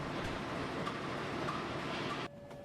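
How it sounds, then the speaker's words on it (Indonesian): Train running along the rails at speed, a steady close rumble with faint clicking for most of the moment, then cutting off abruptly into a quieter hum with a thin tone. "Loko sudah diberangkatkan dan melaju kencang menuju stasiun besar"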